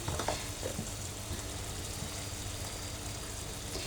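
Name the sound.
sautéing raw mango pickle with spices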